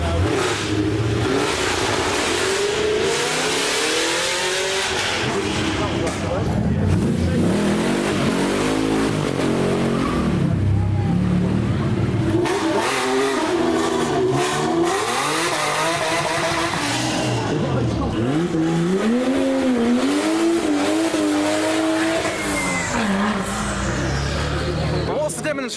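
Racing cars revving and accelerating past on a demonstration run, with loud TVRs and GT40s among them, engines roaring continuously near and loud with tire squeal, under steady voices.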